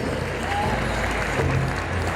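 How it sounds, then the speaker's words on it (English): Crowd applause fills a pow wow at the Mall of America, a dense, steady clapping that holds throughout at close range, with an announcer's voice faintly mixed in. "let's give a big round of applause for the one and only"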